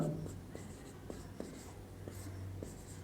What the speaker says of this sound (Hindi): सबसे पहले हम ये लिखते हैं हल, ठीक है।